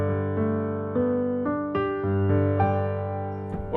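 A close-miked mix of the XLN Addictive Keys Studio Grand virtual piano plays a short phrase of chords and single notes, upfront and clear, alone.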